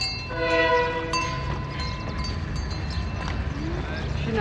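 A train sounds at a station, with a sustained horn-like tone over rumbling rail noise and background voices.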